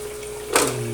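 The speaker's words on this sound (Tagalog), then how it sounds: "Para mag-drain yung tubig." Water drains from an aquarium stool collector in a brief burst of splashing, trickling noise that rises mid-clip over a steady low pump-like hum.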